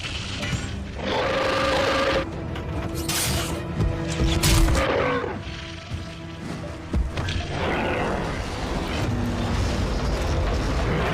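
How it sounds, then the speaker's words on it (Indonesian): Heavy booms and crashing thuds from exploding oil barrels burst repeatedly over a dense, roaring battle backdrop involving giants and mammoths, loud and chaotic. "Gagak menjatuhkan ember minyak yang meledak pada raksasa dan mamut"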